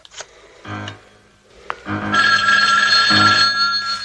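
A telephone bell rings in two loud, close bursts separated by a short gap, with a brief click before them and no talk over it.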